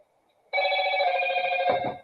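An electronic telephone ringtone bursts in during a live-streamed talk show, a single steady multi-tone ring lasting about a second and a half before cutting off, moderately loud with no talk over it.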